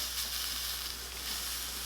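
A hot iron pressed onto a wet cloth over a wooden M1 Garand rifle stock gives a steady, soft sizzling hiss that continues without a break.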